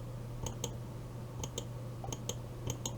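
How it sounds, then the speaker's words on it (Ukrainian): Quick pairs of sharp mouse clicks repeat in short bursts over a steady low hum, close and fairly crisp, with no talking. "И мышью так клацаю."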